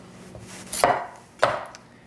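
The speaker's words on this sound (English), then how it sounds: "And so now we want to julienne it" A kitchen knife slices through a vegetable on a cutting board, two distinct crisp cuts spaced apart, close and fairly quiet with no talking.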